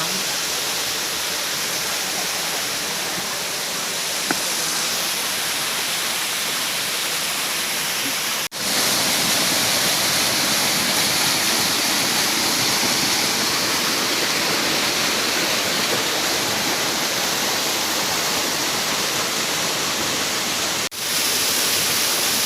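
Steady, dense rushing of a forest waterfall in Mae Wong National Park, Thailand, loud and unbroken, with only a couple of brief dips in the roar.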